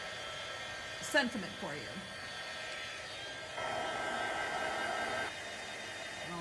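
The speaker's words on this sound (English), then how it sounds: "I'll emboss this really quick so you can see it." A heat embossing tool blows hot air in a steady, fairly quiet whooshing hum that runs for a couple of seconds, preceded by a brief spoken phrase.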